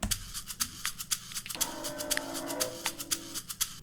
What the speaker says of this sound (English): Then I added a few clackers from Max.